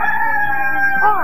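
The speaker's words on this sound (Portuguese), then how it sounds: "Põe o galo pra acordar o pessoal!" A rooster crowing, played over a live radio show, one long loud drawn-out crow with a bright harmonic tone that rises at the end, heard up close and alone.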